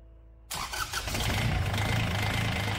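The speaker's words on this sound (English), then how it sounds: "I want to start the engine and let the supercharger blow some air through the system" Supercharged three-cylinder Kubota diesel engine in a car with a newly fitted intercooler cranks and fires up abruptly, then settles into a loud, steady, rough idle close by, with no talking.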